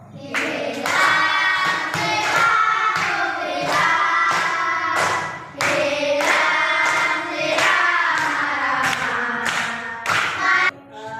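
Children sing a song together while clapping their hands in steady rhythm, loud and close, with brief pauses between phrases.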